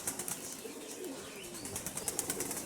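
Pigeons coo softly amid a steady outdoor hiss, with bursts of fluttering wingbeats near the beginning and again toward the end.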